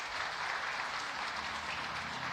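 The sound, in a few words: church congregation applause for the parents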